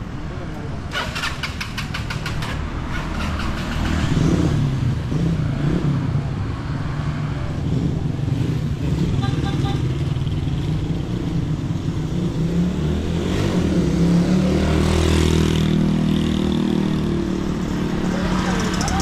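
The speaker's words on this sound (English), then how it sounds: "I'm sorry for the noise, but everybody decides to ride a motorcycle here." Motorcycles and mopeds rev and pass along a busy street in Las Terrenas, Dominican Republic, engines buzzing and rising and falling one after another at close range, with a voice talking over them.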